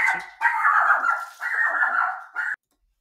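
A dog barks and yelps in several drawn-out bursts, loud and near, breaking into an indoor podcast recording before falling silent.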